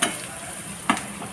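Curry leaves dropped into hot oil for a buttermilk curry tempering give a steady close sizzle and frying hiss, with two sharper crackling bursts at the start and near the end.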